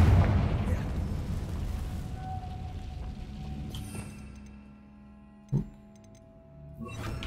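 A Confringo fire spell detonates in Hogwarts Legacy with a loud, deep boom right at the start that rumbles and fades over several seconds. A smaller pop follows later.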